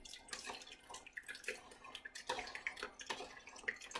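Kefir whey dripping steadily through a strainer at close range, a scatter of soft wet drips and trickles over about four seconds with no talking.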